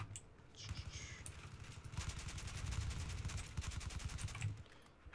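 Automatic gunfire in the video game Battlefield 4 rattles out as rapid, evenly spaced shots in a sustained burst after a few scattered single cracks, fairly loud and continuous with no talking.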